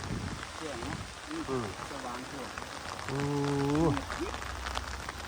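Daytime rain falls steadily at a shrimp-trapping spot, a constant soft hiss throughout, while people talk over it.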